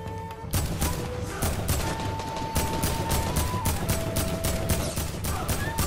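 Gunfire in a shooter video game comes as rapid, evenly spaced shots in a sustained burst at close range, loud and continuous over several seconds, with other game tones underneath.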